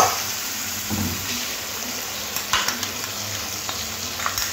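Ground masala paste hits a pan of frying onions and tomato for a catla fish curry, a steady sizzle with stirring clatter and a few spatula knocks toward the end.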